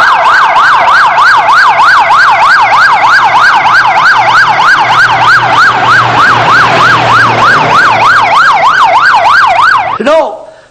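An ambulance siren wails loudly and steadily in a fast rising-and-falling cycle close by, running for about ten seconds before cutting off abruptly, with no talk over it.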